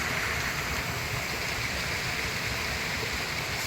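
Continuous rushing water, a broad steady roar like a nearby waterfall, with no voices.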